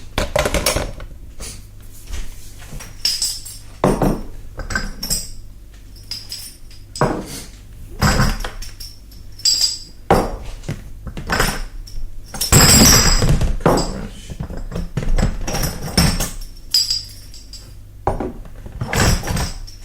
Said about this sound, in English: try not to get any broken glass in your beer